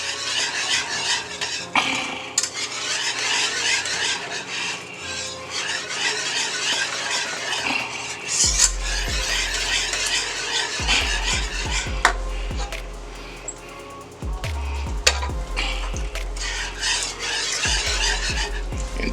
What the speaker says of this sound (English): We're gonna add our little bit of Parmesan cheese.